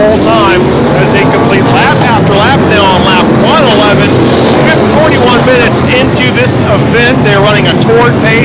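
Race cars lap a figure 8 track during a 3-hour endurance championship, engines roaring loud and continuous with repeated passes, under a commentator's steady talk.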